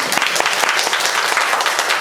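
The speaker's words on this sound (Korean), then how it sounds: "박수 한번 부탁드립니다" Brief, loud, dense applause from a cinema audience at a post-screening talk for the film Black Money, continuous clapping throughout.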